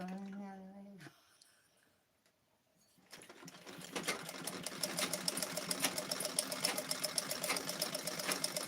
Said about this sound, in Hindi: कपड़े सिल रही हो क्या?